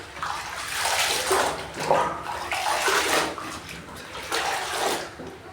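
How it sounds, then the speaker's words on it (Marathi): A white cloth dipped into a pot of water and wrung out, producing repeated sloshing, splashing and dripping in uneven surges, close and moderately loud. "आता मी पातेल्यामध्ये बुडून घेणार आहे आणि त्याला स्वच्छ पिळून घेणार आहे"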